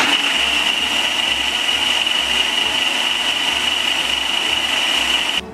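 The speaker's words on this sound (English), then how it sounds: "When you're done blending the gravy, we will add it to the minced mixture." A blender runs steadily through vegan gravy, a loud continuous motor whine with low rhythmic chugging as the mixture churns, cutting off abruptly at the end.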